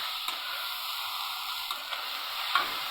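Radish greens fry with prawns in a pan, giving a steady bright sizzle broken by a few soft scrapes of stirring.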